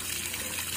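Water gushes steadily from a handpump that nobody is working, forced up by floodwater from the swollen Rapti river in Gorakhpur. The flow is a dense, continuous rushing splash close by, with no talk over it.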